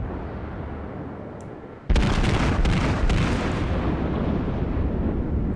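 Battleship shells from the Tirpitz striking a target in World of Warships: a steady low rumble, then a sudden loud cluster of booming impacts, followed by a sustained roaring wash of explosion noise.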